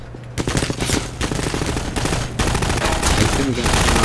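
Rapid gunfire in Half-Life 2, dense bursts of shots running almost without pause, loud and close, with brief gaps between volleys and faint game voices underneath.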